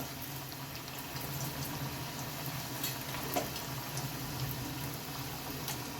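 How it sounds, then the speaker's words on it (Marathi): Soft, continuous bubbling sizzle of vadis deep frying in hot oil, fairly quiet and steady with a faint clink partway through. "तेल देखील आपलं तापलेलं आहे. तर यामध्ये आता आपण वड्या घालून घेऊया."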